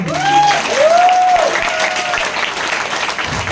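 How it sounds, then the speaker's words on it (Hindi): Seminar audience in Bhopal clapping together, a steady dense wash of applause filling the room while a tonal whistle-like sound rises and falls over the first half. "ताली बजाओ एक बार सब"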